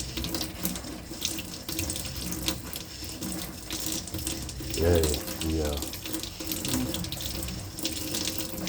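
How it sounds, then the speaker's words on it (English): Water running steadily from a tap or hose during RV winterizing, with a pump going in the background, a constant hiss throughout and a brief spoken word near the middle. "You can hear my pump out there going."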